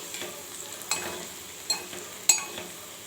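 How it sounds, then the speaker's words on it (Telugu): A spoon scrapes and clinks in a pan while fried pieces are tossed with peanut chilli powder, giving a few sharp metallic taps over a soft, steady rustle of stirring. "ఇప్పుడు చక్కగా మొత్తము ఈ ముక్కలకు ఈ పల్లీల పౌడర్ అయితే పట్టేలా చక్కగా కలుపుకోవాలి"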